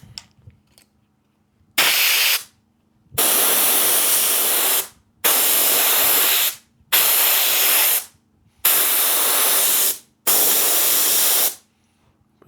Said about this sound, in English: So I'm just gonna spray some glue in there.